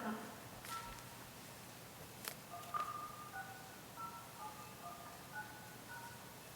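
A telephone dials out to bring a caller into a city council meeting: a faint sequence of short, evenly spaced keypad tones over a quiet room, with a louder click near the start.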